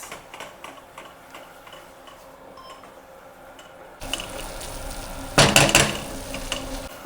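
Sautéing and stirring for Madurai pepper chicken in a pan: a faint, quiet stretch gives way midway to a louder, steady frying hiss with a brief burst of clattering stirring near the end. No one speaks.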